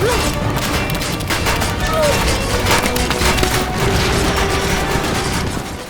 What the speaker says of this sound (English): when I combined both of those into my sequence, it was exactly the sound I was imagining